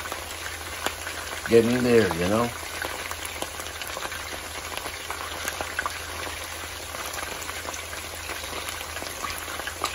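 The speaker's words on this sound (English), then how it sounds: "the chicken is frying very good" Chicken pieces for brown stew chicken fry in a pan with a faint, steady crackling sizzle throughout. A voice speaks briefly near the start.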